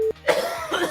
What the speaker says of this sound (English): I've got to edit a lot of coughing out of this.